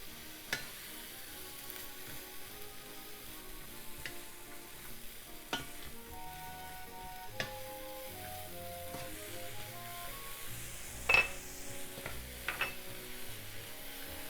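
Squid and vegetables stir-fry in a pan with a soft, continuous sizzle, punctuated by occasional scraping stirs and light clinks, heard close and quiet with no talk.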